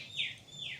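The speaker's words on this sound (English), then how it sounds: "there's birds, there's palm trees" Birds chirp in the garden of a hotel in Muscat, Oman, set among small streams, fountains and palm trees; two bright, sweeping call notes sound softly at mid-distance over a quiet background.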